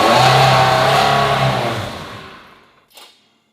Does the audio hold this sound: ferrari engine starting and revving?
yes